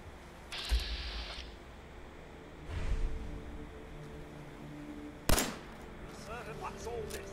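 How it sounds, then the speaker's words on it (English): Sparse gunshots in the video game Fallout 4, a few separate sharp reports spaced seconds apart, moderately loud against a quiet background. "And I hear gunshots."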